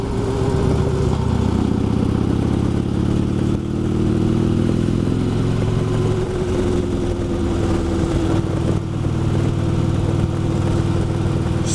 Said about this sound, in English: I decided to get the bike out of the shed there and take a little ride.